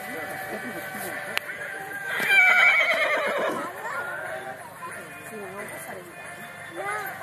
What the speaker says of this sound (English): And now we have number 55, Giuseppe Ducci on Priscilla Dei Mori doing the trot inspection.